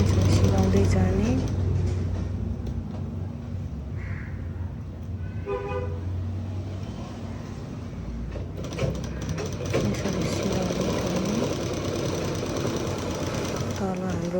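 A sewing machine stitches along a zipper with a rapid mechanical whirr and clatter. Someone talks over the stitching throughout, and the machine runs in bursts.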